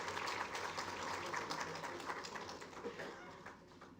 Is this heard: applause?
yes